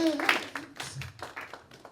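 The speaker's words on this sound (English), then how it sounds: "Clap your hands, clap your hands, clap your hands" Audience hand claps keep a steady beat beneath a sung gospel-style call of a live stage performance, the rhythmic claps mixed in with the voice throughout.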